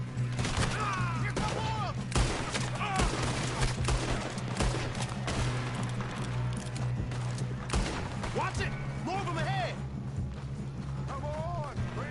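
Frequent gunshots and shooting rattle through a gunfight in Red Dead Redemption II, with horse hoofbeats and voices talking over a steady background, shots loud and close throughout.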